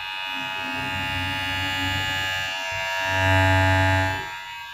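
An electric hair clipper buzzes steadily up close with a bright, tonal whine, its pitch and loudness swelling slightly as it presses against hair near the end before easing off.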